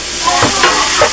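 Sausages fry in a hot pan, a loud, close, steady sizzle and crackle with a few spitting pops, heard alone without talk.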